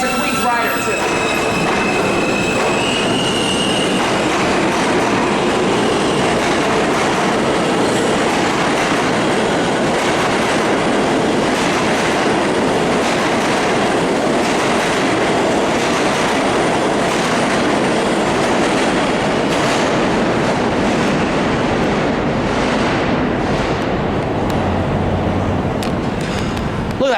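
New York City subway train rumbling loudly past up close, continuous wheel roar and clatter with squealing wheels, sustained throughout with no clear speech.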